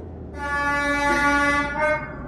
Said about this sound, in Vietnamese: tàu vừa đi ngang qua, còi tàu đấy